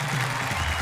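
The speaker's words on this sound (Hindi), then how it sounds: "हम जोरदार तालियों से स्वागत करते हैं प्रवीण शुक्ल।" An audience claps loudly in a dense, steady wash, welcoming a poet onto the stage at a Hindi poetry gathering, with a faint voice under it.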